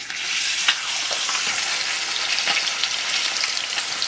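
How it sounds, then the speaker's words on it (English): Meat sears in a little oil in a hot pan, giving a loud, continuous close sizzle with a few sharp crackles and clicks scattered through; no one talks. "We're going to let that sear for the same amount of time."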